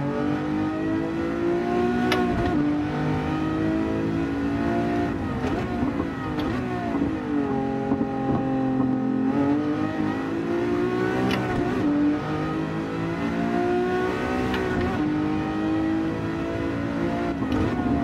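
A 2000 Lamborghini Diablo GT engine in a racing video game at Mount Panorama revs and shifts continuously, its pitch climbing and dropping through gear changes at steady volume.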